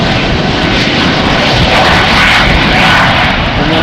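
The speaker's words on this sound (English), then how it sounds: "At least it's spooling up" Embraer E2 jet engines spool up for takeoff on a showery Amsterdam Schiphol runway, a loud, steady broadband roar that stays strong and builds slightly throughout.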